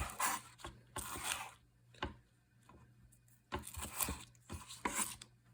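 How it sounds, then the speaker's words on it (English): A chef's knife roughly chops green onion on a cutting board in quick bursts of crisp, close strokes separated by short pauses, with no talk. "So here I'm going to just kind of roughly chop some green onion."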